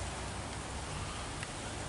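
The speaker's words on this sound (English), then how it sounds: "finally getting some needed rain that we have been needing" Steady rain falls with a dense, even hiss and patter, continuous and fairly close throughout, with no voices.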